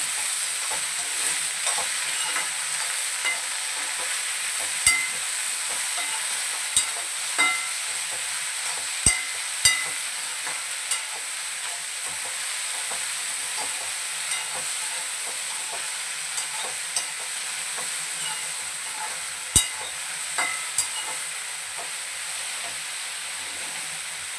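Okra with tomato and salt is stirred in a kadai, giving a continuous soft sizzle with occasional light clicks of the spoon against the pan.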